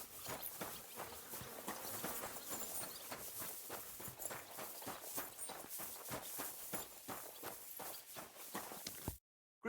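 Steady clip-clop of horse hooves at a walking pace in the video game Kingdom Come: Deliverance II, close and even, continuing for several seconds before cutting to silence.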